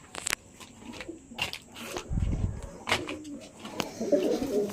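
Pigeons cooing in a loft, soft repeated low coos with some wing flutters and faint background noise, no talking.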